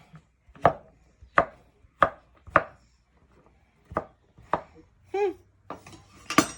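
A knife chops through a pan of peanut butter brownies, giving about nine sharp, close thuds against the board in a loose, uneven rhythm with short pauses between cuts.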